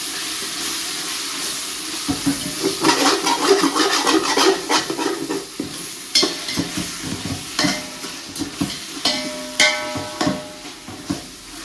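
Ingredients with ginger-garlic paste sautéing in a pan for mutton biryani, a large 4 kg batch: dense sizzling overlaid with repeated rhythmic scraping and clanking stirring strokes, close and prominent, without speech.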